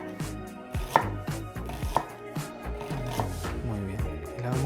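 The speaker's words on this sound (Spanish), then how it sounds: "la cebolla pelada, cortamos un poquitito, primero a lo largo y finalmente en una brunoise lo más finita posible" A knife on a board finely chopping peeled onion into brunoise, with quick irregular close thuds and cuts and a couple of sharper knocks, heard alone without talk.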